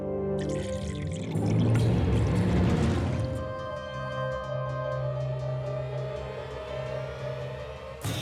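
Water pours into a drinking glass as a close, rushing stream for about three seconds, then fades to a lingering hum with a faint trickle and no voices.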